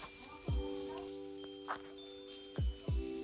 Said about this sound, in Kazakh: Табамызға майымызды құйып, фаршымызды салып, жақсылап қуырып аламыз.